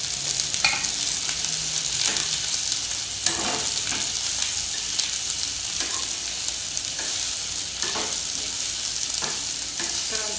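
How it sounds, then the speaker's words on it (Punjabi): Paneer, onion and capsicum fry in a pan with a continuous bright sizzle, broken by repeated stirring scrapes at an unhurried pace throughout. "ਪਨੀਰ ਦੇ ਨਾਲ ਨਾਲ ਅਸੀਂ ਪਿਆਜ਼ ਵੀ ਫਰਾਈ ਕਰ ਲੈਣਾ ਨਾਲ ਲੱਗਦੇ ਅਸੀਂ ਸ਼ਿਮਲਾ ਮਿਰਚ ਵੀ ਫਰਾਈ ਕਰ ਲੈਣੀ"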